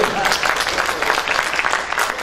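An audience at a conference on scientific research in Latin America applauds to welcome a speaker, with loud, dense clapping that stays steady for about two seconds.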